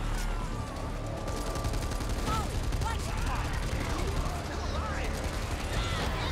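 Rapid gunfire fills the scene as players shoot zombies in Back 4 Blood, a dense continuous volley of shots with mechanical clatter, while voices talk over it.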